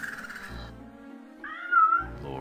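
A cat meows twice in the computer game Tex Murphy: Overseer, a drawn-out plaintive cry followed after a short pause by a louder, rising second meow, close and alone.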